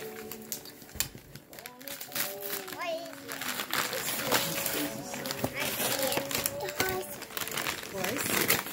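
Gift wrapping paper crinkles and rustles up close as a present is unwrapped, while a child and an adult talk over it.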